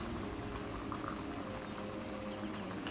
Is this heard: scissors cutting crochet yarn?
no